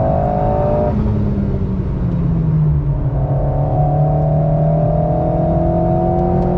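A race car engine revs hard under acceleration, its pitch dropping at a gear change near the one-second mark and then climbing again in a steady, loud drone, with no talking.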